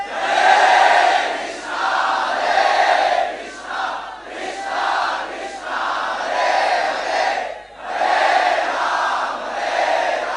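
At a devotional festival gathering, a large crowd chants the holy names loudly in unison, the massed voices rising and falling in repeated rhythmic phrases with brief dips between them.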